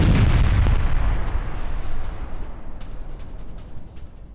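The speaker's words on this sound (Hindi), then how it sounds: "TM-62 एंटी टैंक माइन से उड़ाया रूसी टैंक।" Anti-tank mine (TM-62) blast destroying a Russian BMP-2 armored vehicle in war footage: a loud, heavy boom rolling into a long, decaying rumble with scattered crackles, no voices.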